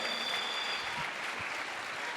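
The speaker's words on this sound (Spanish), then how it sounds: "denle una ofrenda de palmas al Cristo de la gloria" A church congregation breaks into applause during a sermon, a steady crackling wash of many hands clapping, moderately distant and sustained for a couple of seconds.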